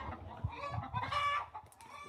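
Chickens cluck and murmur at morning feeding time on a spring homestead, a busy close flock with overlapping calls and one or two brief crowing notes, no talking.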